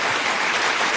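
A studio audience applauds in a brief, steady wash of clapping with no break and no voices.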